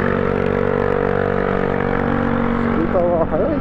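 A scooter accelerates past from behind a Yamaha Serow 250 on a neighborhood road, its buzzing engine note rising near the end over the steady close drone of the motorcycle.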